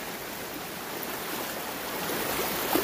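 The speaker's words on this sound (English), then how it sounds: "This is almost raging rivers. Raging waters." Lytle Creek in California rushes over rocks in a steady, full broadband roar of moving water, close and constant with no pauses.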